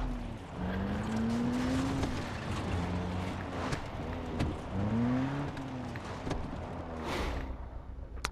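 A car's engine drones in the Far Cry 3 video game, revving up and down in repeated swells as it drives, loud and continuous with a motor-like hum and no talking.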